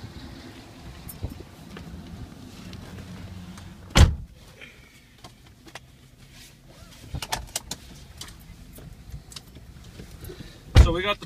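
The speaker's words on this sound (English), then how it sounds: "So we got the power moonroof." The power moonroof of a 2008 Cadillac Escalade ESV runs inside the cabin with a quiet motor whir, framed by two sharp, loud clunks, and faint mechanical rustles between them.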